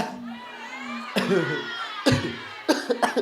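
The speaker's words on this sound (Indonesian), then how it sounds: "Aduh, batuk euy" Several sharp coughs burst out one after another over background chatter and voices.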